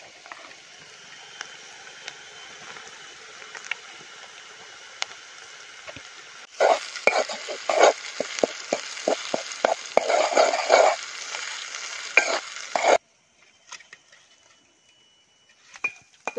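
Chili mixed with shidol is fried in a pan while cooking outdoors in a jungle. A soft background hiss gives way to louder sizzling and clattering stirring for several seconds, then the sound drops to near quiet.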